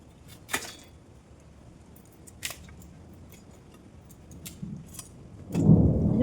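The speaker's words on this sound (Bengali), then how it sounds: "এই কপি কেটে নিচ্ছি।" A cauliflower is cut by hand for cooking in a home kitchen: a few sharp, separate crunching cuts spaced seconds apart, then a louder, denser rustle of handling at the end, with no talking.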